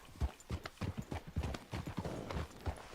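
Horse hooves clip-clopping in a steady walking rhythm while a rider sits on a smaller horse, apparently in a video game; the evenly spaced thuds are moderately close and fairly quiet, with no talk.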